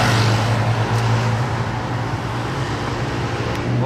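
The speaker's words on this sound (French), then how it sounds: "C63 Black Series." A Mercedes C63 Black Series drives by on a public road, a steady, loud engine drone with a low rumble running throughout, set against traffic noise.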